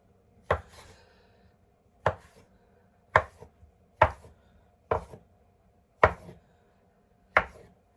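Knife chopping strawberries on a cutting board: seven sharp, evenly spaced chops, close and clear, with a quiet hum in the background and no talking.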